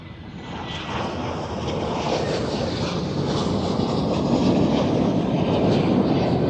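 A KLM airliner at Amsterdam Schiphol roars past, a broad, steady jet rumble that builds gradually and stays loud throughout.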